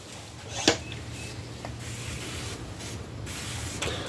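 A few short hisses of water spraying onto a Euphorbia pulvinata plant to rinse off sap, one sharp burst standing out, faint and close over a low steady hum.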